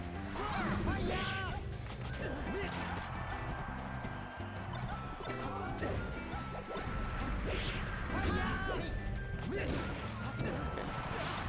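Heavy smash hits land repeatedly in a competitive Super Smash Bros. doubles match, sharp cracking impacts scattered over busy game sound while commentators talk throughout.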